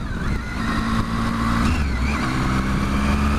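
A motorcycle engine drones steadily at close range while climbing a steep, narrow mountain road, its pitch sagging slightly as it labors and loses revs.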